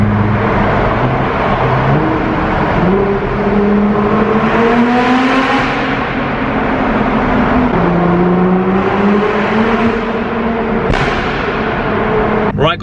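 A Nissan GTR engine revs and accelerates inside a tunnel, loud and close, its pitch climbing and falling through several gear changes with a steady roaring drone throughout.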